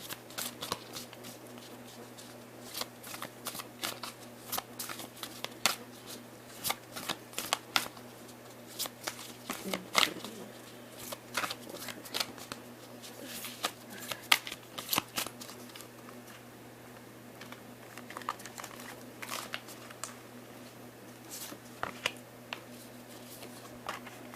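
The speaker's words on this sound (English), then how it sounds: "Let's pull out a couple cards from the oracle card deck and some from the tarot card deck" Tarot and oracle cards are shuffled and drawn from their decks, giving steady quiet riffling and flicking clicks that run throughout over a low hum, with no talking.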